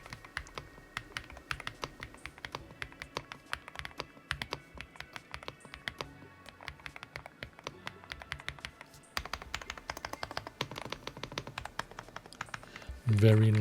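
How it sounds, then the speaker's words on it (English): Typing on a gasket-mount mechanical keyboard with linear switches, a brisk stream of close, crisp keystrokes with irregular rhythm, heard on its own and growing busier toward the end. "this is a gasket mount mechanical keyboard with linear switches. As you can hear, the typing sound is pretty nice"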